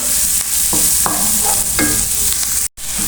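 Cauliflower florets being stirred in a hot pan while cooking noodles: a steady oil sizzle with a few scraping strokes of a spatula and a brief break near the end.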